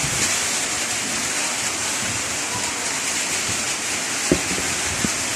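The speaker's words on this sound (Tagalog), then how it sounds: "Ayan umuulan na naman guys." Rain falling steadily as a dense, loud, even hiss at a fairground, with a couple of faint knocks near the end.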